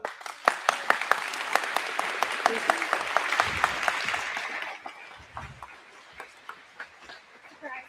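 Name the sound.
audience applause at county fair coronation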